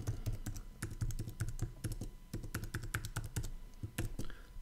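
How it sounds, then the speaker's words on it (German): Rapid, irregular keystrokes on a computer keyboard as a password is entered, close and clear, a steady clatter of taps with no talking. "Passwort eintragen"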